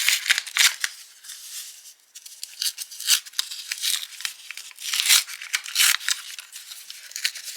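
Trading card pack torn open by hand, crisp foil tearing and crinkling in short bursts, close and fairly loud with brief pauses between rips.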